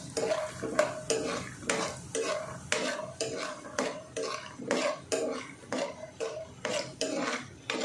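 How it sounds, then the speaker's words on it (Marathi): Peanuts frying with onion in a little oil in a pan for kanda poha, stirred with a spoon: rhythmic scraping strokes against the pan, roughly two a second, over a soft sizzle. "आता मी हे शेंगदाणे आहेत ना हे टाकते भाजायला"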